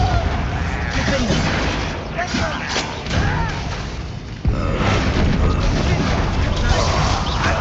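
Bombarda spell explosions in the Hogwarts Legacy video game, a dense run of booming blasts and thuds amid loud, continuous battle noise, with a sharp fresh burst partway through.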